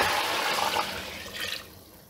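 Boiled water poured into a cooking pot of beef trotters for paya curry, a brief splashing gush that tapers off within about two seconds.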